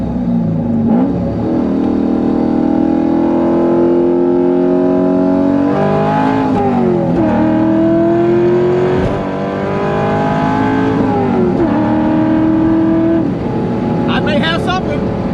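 A cammed C5 Corvette Z06 with a manual gearbox pulls hard from second gear, its loud engine note rising in pitch, dropping at each upshift and climbing again, heard from inside the car.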